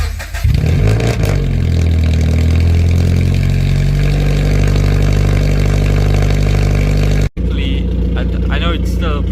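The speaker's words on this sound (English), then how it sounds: "now that it's done, let's get a cold start up and see if it's less aggressive" A Toyota car engine with a straight pipe exhaust cold-starts at a car meet, catching with a loud bark and then settling into a steady, heavy, rumbling idle that runs close and loud, with a brief cut near the end.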